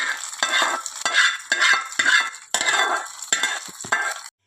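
Punugulu batter fritters dropped into hot oil: loud, steady sizzling and crackling that swells in repeated bursts as each spoonful goes in, close by, with no talking.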